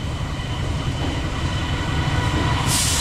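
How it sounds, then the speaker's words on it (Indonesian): The Malabar passenger train runs straight through Cibatu station without stopping, a loud continuous rumble of rolling wheels and carriages close by, steady throughout with a brighter hiss of rail noise rising near the end. "Oke, kereta api Malabar ya, melintas langsung di stasiun Cibatu."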